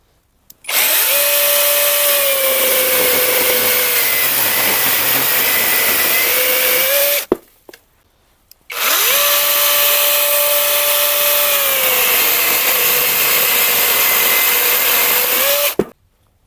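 Two long bursts of a ProCraft cordless saw cutting through wood, each a loud steady whining buzz of several seconds separated by a brief pause, with no talk.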